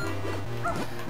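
A dog in the video game Zelda: The Minish Cap gives a quick run of synthesized yips and whimpering barks, bright and electronic, over a faint game background tone.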